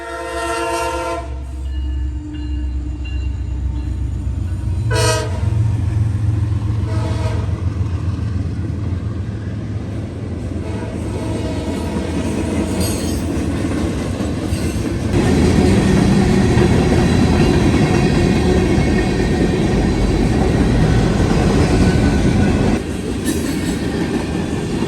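Norfolk Southern train 171 heading west through London, Ohio, with a Ferromex ACE locomotive trailing second: horn blasts ring out early, then a long, loud rolling rumble and rail clatter as the train passes close by.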